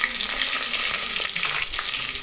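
Steady hissing sizzle of dried red chillies and garlic frying in hot oil for a tempering for dill leaf sambar, continuous and close with no talking.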